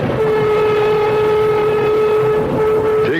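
Radio drama sound effect of a moving train: a steady, loud rumble of rolling wagons runs throughout with a sustained whistle tone, rising slightly near the end, and no voices.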